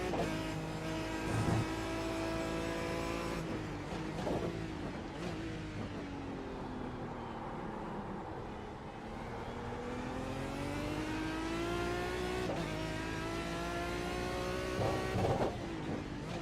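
An Aston Martin DBR9 GT1 race car engine in the iRacing simulator drones continuously and close. Its pitch climbs through the gears, dips and rises through the corners, with a few brief sharp blips along the way.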